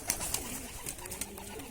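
A hungry crested Madrasi pigeon chick calls in short repeated coos, soft and fairly close, over a steady low background hum, with no talking.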